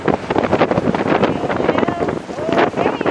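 Strong, gusty wind buffets the microphone on a fishing pier, with the wash of rough waves beneath and a voice talking through the roar.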